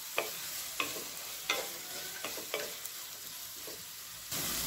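Cabbage and mixed vegetables are stir-fried with salt for veg fried rice, a quiet continuous sizzle broken by several sharp spatula clacks against the pan, then a louder burst of frying at the end.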